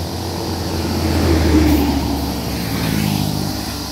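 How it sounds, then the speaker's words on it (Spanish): Road traffic with cars and motorcycles rolls past at a roadside, a loud engine drone that builds toward the middle, eases, then rises again as another vehicle approaches. "Ahí vienen carros y motos."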